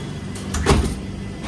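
A train door on the Tejas Express slides shut with a single muffled thud and short rattle, close by inside the coach, over a low running rumble.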